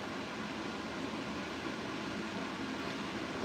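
A steady, even airbrush hiss of cleaner being sprayed through runs throughout at moderate level, continuous and unbroken, with a slight rise at the very end.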